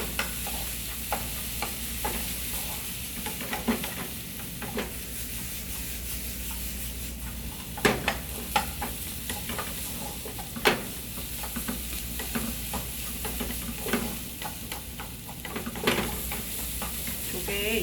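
Onions stir-frying in a pan while preparing tomato seafood spaghetti, a steady soft sizzle with scattered scraping and stirring clicks of a utensil against the pan, fairly quiet and continuous with no talk.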